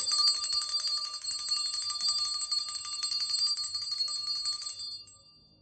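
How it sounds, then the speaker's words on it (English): A bright, high bell rings continuously in rapid repeated strikes, loud and close, then stops abruptly and fades into silence. "so let's first ring the bell."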